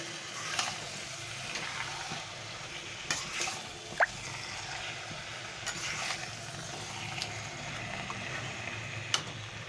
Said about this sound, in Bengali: আমার এখানে মাংস দেড় কেজি মাংস আছে পাঁচ ছ মিনিট ধরে আমি এটাকে কষতে থাকবো ভালো করে